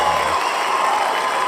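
A cheering squad roars and claps as a studio crowd welcomes a guest on an entrepreneurship show, a dense, steady wash of voices and applause that holds at even loudness for a second and a half.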